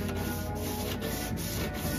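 Steady, continuous abrasive rubbing of 80-grit sandpaper on a Honda Civic body panel, a close, even scratching texture with a high whine running underneath.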